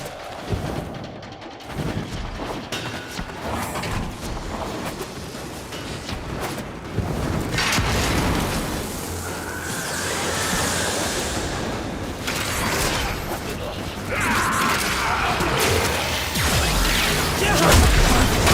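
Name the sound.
excavator deploying and running in the video game Warframe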